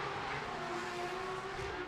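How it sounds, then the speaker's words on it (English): Drift car spinning its rear tyres at Mondello Park racetrack, a loud continuous engine roar with a sustained high-revving tone and tyre noise throughout. "Adam LZ toasts the back of the tyres on his Euro competition car"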